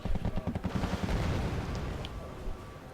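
Rapid, heavy automatic fire from quad .50-calibre guns in the video game Wargame: AirLand Battle thumps in a fast rhythm, then fades into a rumbling wash of battle noise.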